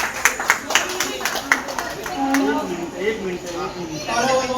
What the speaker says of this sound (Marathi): एक मिनिट टाळ्या वाजवा सामान्य.